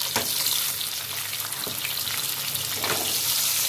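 Chopped tomatoes drop into a hot oil tempering of chilli, asafoetida, cinnamon, mustard seeds, cumin and cardamom, giving a loud, steady sizzle with a few sharper bursts and stirring scrapes, close and continuous throughout.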